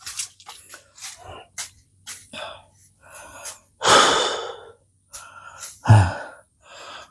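Heavy, ragged panting and gasping breaths from a person resting after clearing an overgrown path outdoors, coming in a run of short loud puffs with a couple of sharper gasps.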